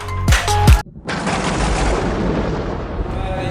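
Heavy downpour with hail in Bahawalnagar, opening with a few loud booming cracks before a dense, steady roar of rain and pelting hail fills the rest, close and unbroken.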